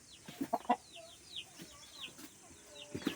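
A multicoloured rooster clucks in a few short bursts early on and once more at the end, with small birds chirping steadily in the background.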